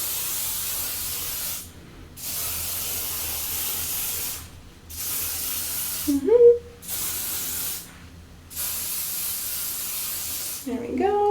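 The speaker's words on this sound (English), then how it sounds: "lightly mist all your head with hairspray" An aerosol can of hairspray misting over curled hair, four long steady hissing bursts close up separated by short pauses, with brief soft sounds between sprays.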